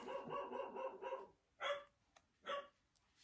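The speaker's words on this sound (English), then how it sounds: "Sorry, the dogs." Dogs barking indoors close by, a quick run of rapid barks followed by two separate single woofs, moderately loud with no talking over them.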